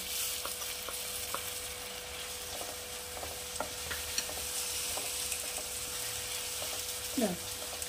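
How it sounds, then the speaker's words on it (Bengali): Whole spices fried as a tempering are tipped into a frying masala for a Bengali bottle gourd and chana dal dish, giving a steady close sizzle with scattered stirring scrapes and a brief louder burst near the end. "এবার আমি এই মশলার কষানোর মধ্যে এই ফোড়নটা এখানে আমি অ্যাড করে দেবো"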